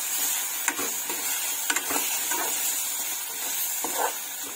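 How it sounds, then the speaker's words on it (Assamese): Steady frying sizzle of food seasoned with salt and turmeric fills the clip, with soft stirring scrapes and light taps throughout, close and continuous. "এইখিনি এতিয়া ভাজি লওঁ ধুনীয়াকৈ সিজালৈকে"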